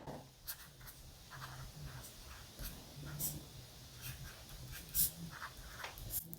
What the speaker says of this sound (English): And there's your writing sound, very nice.